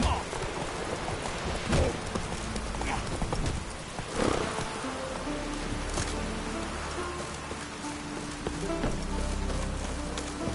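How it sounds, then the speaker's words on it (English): Steady rain hisses across the whole stretch in The Witcher 3, with clip-clopping horse hooves and faint game sounds and voices mixed in over a continuous wet wash. "It's raining."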